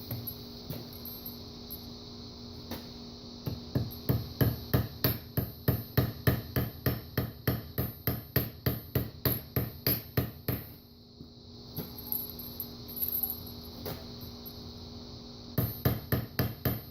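A hammer peens a metal rivet on a collapsible staff, giving a long, steady series of sharp, ringing taps over a low background hum, with a short pause partway through before the strikes resume.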